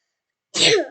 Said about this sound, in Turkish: özür dilerim biraz hapşurdum